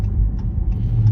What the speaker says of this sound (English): I would have a separate straight pipe off of the exhaust, so I could actually flip between all this exhaust features